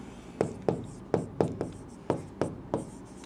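A maths proof being written out by hand, heard as a close series of eight or so crisp, evenly spaced scratchy pen strokes, each with a sharp start and a quick fade.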